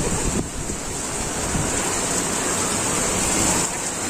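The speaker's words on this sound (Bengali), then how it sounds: "ঝোড়ো হাওয়ার সঙ্গে বৃষ্টি" Stormy wind drives rain during Cyclone Remal near Puri, Odisha. A loud, dense, continuous roar of gusting wind and rain covers the whole stretch and masks any other sound.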